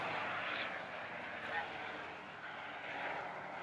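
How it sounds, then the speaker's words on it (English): An airplane passes overhead outdoors among bushes and trees, a broad steady rumble that swells slightly and lingers for several seconds, with someone talking over it. "Airplane going by overhead."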